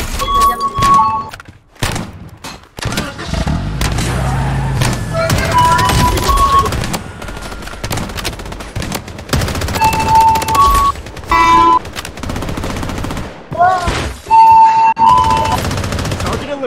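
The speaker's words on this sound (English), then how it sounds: "Defensive turret activated." A defensive turret in the war video game Epic War Blood Strike fires loud machine-gun bursts, mixed with other battle effects and electronic tones.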